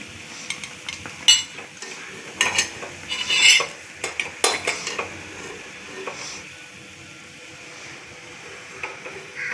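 Sweet potato adhirasam frying in hot oil and being flipped, with a series of sharp clinks and scrapes of a utensil against the pan over a faint oil bubbling, busier early on and quieter toward the end.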